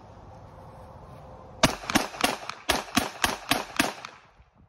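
A Remington 1911 pistol fires Blazer 230 grain aluminum-case rounds in a rapid string of about nine sharp, loud shots, evenly spaced, after a quiet lead-in, with no talking.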